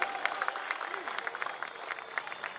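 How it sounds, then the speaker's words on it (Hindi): Audience applauding at a public gathering in India, a steady patter of many clapping hands at moderate distance, fairly faint, with a few louder claps standing out and no clear talk over it. "जोरदार तालियां।"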